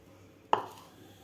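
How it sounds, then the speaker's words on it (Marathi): Single sharp clatter as amla pieces coated in masala are tossed in a vessel to mix, one quick close impact with a short fading rattle in an otherwise quiet room. "अशा प्रकारे टॉस करून आपल्याला व्यवस्थित मिक्स करून घ्यायचं आहे."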